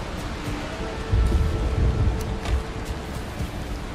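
Thunderstorm in the game Valheim, steady rain hiss with a low rolling thunder rumble swelling in the middle, with no voices.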